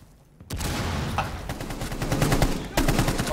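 Rapid automatic gunfire in the Rainbow Six Siege video game breaks out after a short quiet moment, loud and sustained bursts of shots continuing to the end, with a voice faintly underneath.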